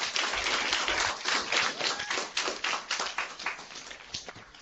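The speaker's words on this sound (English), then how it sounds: "join me in giving a warm round of applause to Pro Football Hall of Famer" Crowd applause for Pro Football Hall of Famer Carl Eller fills the room, a dense, steady clapping from many hands that holds strong and then gradually thins out.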